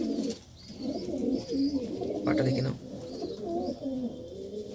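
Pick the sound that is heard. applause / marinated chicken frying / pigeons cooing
pigeons cooing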